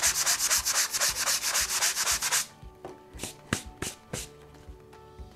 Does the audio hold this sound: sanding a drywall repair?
yes